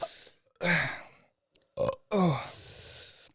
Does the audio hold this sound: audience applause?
no